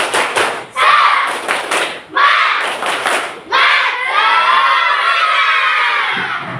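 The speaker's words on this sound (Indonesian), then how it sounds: "Oke, semua tepuk semangat." Children in a class chant and beat out a rhythmic spirit clap in short bursts of quick claps, each burst ending in a loud shared shout. A longer cheering cry closes the sequence.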